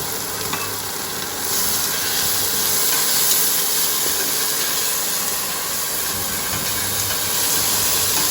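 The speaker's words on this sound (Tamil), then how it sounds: "உப்பையும் போட்டு இப்போ வந்து கொஞ்சம் வதக்குவோம்." Crab curry ingredients sautéed with salt in a pan sizzle and hiss steadily at close range, a continuous frying noise with faint stirring and no talking.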